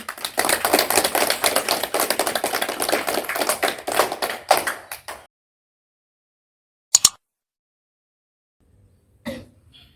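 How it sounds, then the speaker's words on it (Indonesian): Farmers at an IPDMIP agricultural extension gathering clap their hands in a dense, loud burst lasting about five seconds, then silence falls, broken by a couple of brief thumps. "Tepuk tangan."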